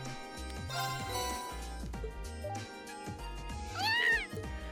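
Cat meowing in the video game Trails of Cold Steel, a drawn-out rising and falling meow near the end over steady game background music.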